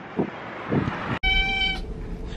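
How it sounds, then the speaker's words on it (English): A cat meows at a pet adoption place, with a couple of soft mews followed by a sharp, clear tonal meow, fairly close and heard on its own. "See the cat?"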